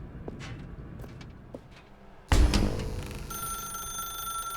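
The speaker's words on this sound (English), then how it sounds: "Now pick up the phone" Telephone ringing in The Stanley Parable video game, a sudden loud ring after soft scattered footsteps, leaving a sustained electronic tone hanging afterward.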